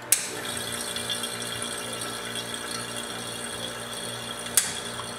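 A glove box vacuum chamber draws down with a steady mechanical pump hum and whir, with a clunk at the start and a sharp click near the end.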